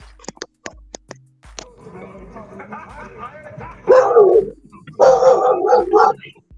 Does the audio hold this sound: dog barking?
yes